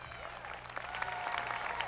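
A festival audience at an outdoor jazz show applauds the percussionist, a brief spread of clapping and crowd noise with a faint voice and low hum underneath.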